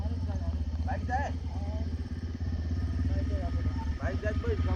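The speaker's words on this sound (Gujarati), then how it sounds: "બાઈક જાય" A motorcycle engine drones steadily at close range, its low throbbing hum running under people talking throughout.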